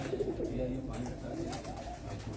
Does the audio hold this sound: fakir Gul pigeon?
yes